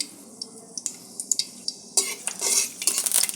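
Dried red chillies dropped into hot oil in a wok, with sharp clicks and clinks at first, then a sizzling burst of frying about halfway through that crackles on to the end, close and fairly loud.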